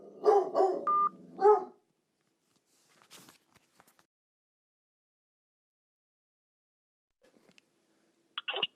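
A big dog barks several times in a quick burst close by, then goes quiet; a few faint knocks and a short squeak follow in the near silence.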